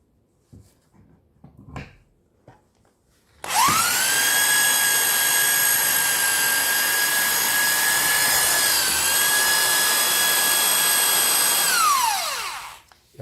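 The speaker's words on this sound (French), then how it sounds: "Donc, je me mets en mode perçage comme d'habitude." A power drill in drill mode bores a hole during plasterboard and electrical wiring work, a steady, loud whine holding for about nine seconds with a slight pitch dip midway, then spinning down to a stop.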